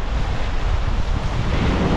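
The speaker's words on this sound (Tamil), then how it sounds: "அவ்வளோத்து காத்தடிக்குது, மழை பெய்யுது" Strong wind roars with rain during a flood in Altena, Germany, filling the scene with steady, loud broadband rushing and buffeting against the microphone, with no voices.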